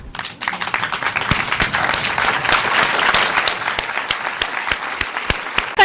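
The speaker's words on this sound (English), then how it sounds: "I wonder if you'd all stand up and clap." A large audience stands and claps in tribute to actor Alan Rickman, dense sustained applause filling the room for several seconds with sharp individual claps standing out near the front.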